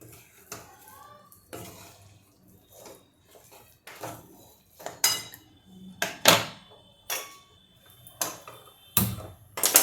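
Roasted dry fruits tipped into a pan of jaggery and roasted flour cooked in milk, giving a series of sharp clinks and clatters of spoon on metal, with a voice speaking at times.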